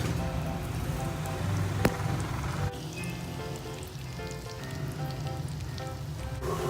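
Chorizo frying in a pan until nearly toasted, a continuous crackling sizzle with scattered pops and a sharp clink partway through, moderately loud and without talk.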